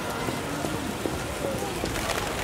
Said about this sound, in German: Wolkenbruch. Das schüttet ja wirklich wie aus Eimer.